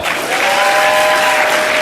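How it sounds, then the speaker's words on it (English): Steady, full audience applause in a hall during a sales motivational keynote, continuous and loud for the whole moment, with a faint sustained tone running beneath it. "Clap if you want the exciting one."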